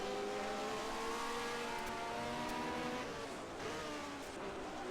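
A 1971 Formula One race car in a racing game drones with a steady, high-pitched engine tone that shifts in pitch as it downshifts, loud and continuous with no talk.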